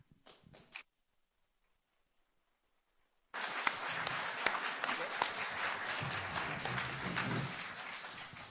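Audience applause at an all-candidates debate on Pender Island, British Columbia, a broad steady wash of clapping that breaks in after a brief silence and carries on loudly, following a short burst at the start.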